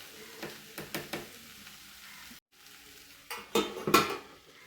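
Dried fish being stirred and fried in coconut oil in a pan, with a spoon scraping and clinking against the metal over a soft sizzle. The scrapes come in short bursts and stop briefly midway.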